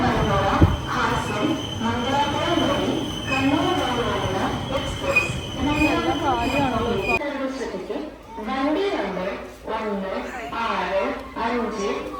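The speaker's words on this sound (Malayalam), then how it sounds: "ട്രെയിൻ ജസ്റ്റ് വന്നു" An express train running from Hassan via Mangalore to Kannur pulls into the second platform of a railway station, a steady rumble and rolling clatter that cuts off partway through, heard under continuous nearby chatter and conversation.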